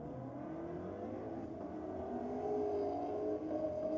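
Engine of a Lexus drag racing against a BMW at Sydney Dragway, a steady loud roar with a rising rev toward the end, heard from a distance.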